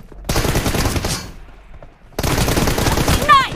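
Two loud, close bursts of rapid automatic gunfire ring out in a 1v2 video game team deathmatch, separated by a brief lull, with a short electronic tone at the end of the second burst.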